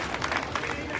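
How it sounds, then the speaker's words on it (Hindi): Dense audience applause at a Jain religious gathering in Satna honouring new trustees, a steady wash of many hands clapping close and continuous, with murmuring voices mixed in. "आप तालियों का अवदान दे करके सम्मान जमा बढ़ाएंगे"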